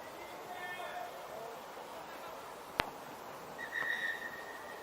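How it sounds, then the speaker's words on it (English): A referee's single short, sharp whistle blast ends the first half at a rugby sevens match, ringing out over crowd murmur with a commentator talking. "Half-time whistle sounds."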